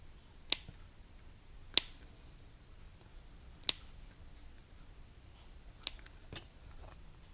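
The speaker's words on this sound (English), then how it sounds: "I'm just gonna go all the way around the tire. Snip, snip, snip." Scissors snip at a rubber RC tire bead while working around a bead-lock wheel, a few sharp isolated clicks spaced irregularly with quiet gaps, close and crisp.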